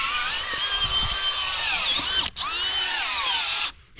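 Power drill running outdoors near a trap line, a loud continuous whine with slight pitch shifts, one brief dropout midway and a sudden stop near the end.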